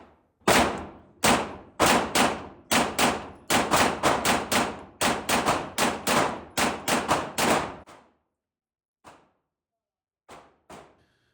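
A Glock 34 pistol with an aftermarket trigger fires a rapid string of about eighteen loud, sharp shots in uneven rhythm, then a brief pause and three more spaced shots at the end.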